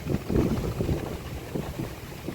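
Low, rumbling wind buffets the microphone in uneven gusts on farmland in Sumy region, Ukraine, a dull roar with no voices.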